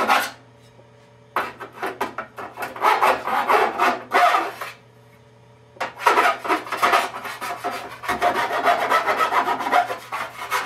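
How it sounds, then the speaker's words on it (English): Hand sanding a motherboard tray with sandpaper makes loud, close rasping strokes in quick rhythmic bursts, split by two short pauses. "A little sandpaper."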